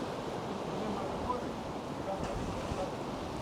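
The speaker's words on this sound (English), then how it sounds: "you can see just how rough the sea is. Wind's blowing from that direction" Rough sea surf and gusting wind on a seaweed-strewn beach at Can Pastilla, Mallorca, heard as a steady, broad roar with wind buffeting the microphone and no distinct breaks between waves.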